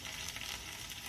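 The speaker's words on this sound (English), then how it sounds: "Frying up real nicely." Steady, faint sizzling of potato bites frying in hot oil, a continuous crackly hiss with no talking.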